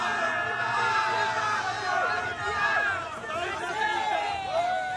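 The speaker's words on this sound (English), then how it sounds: "There's just a bit of a snippet of the excitement in the crowd at the moment of the Wanderers." Excited cricket crowd at the Wanderers stadium in South Africa, a dense, continuous roar of many voices with cheers and shouts rising and falling throughout, close and loud.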